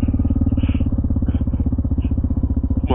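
A motorcycle engine on a mountain pass runs with a steady, rapid, throbbing pulse throughout, close and fairly loud, with occasional faint clatter over it and no voices.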